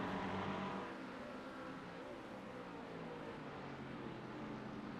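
Ford Mustang 5-litre V8 in a sim racing game at Silverstone, a steady, muffled engine drone held under load along a straight, continuous and moderately loud with no voices.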